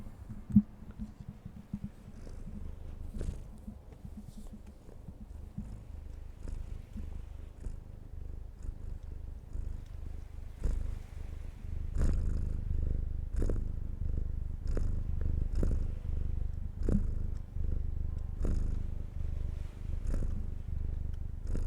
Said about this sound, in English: Are there purrs at least coming through?